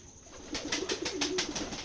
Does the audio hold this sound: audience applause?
no